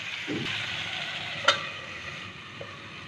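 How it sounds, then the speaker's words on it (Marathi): Cauliflower sabji frying on high flame, a steady bright sizzle throughout with a spoon clink or stir knock midway and another faint tap near the end, close and without talk. "आता 5 मिनिट हाय फ्लेमवरती थोडंसं फ्लावर शिजवून घेऊ"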